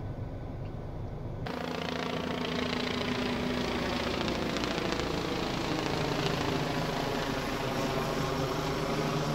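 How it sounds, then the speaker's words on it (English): A helicopter hovers over a coastal revetment construction site downtown, its engine and rotor giving a loud, steady, continuous drone that stays constant throughout. "There are 2 persons suspended from that helicopter."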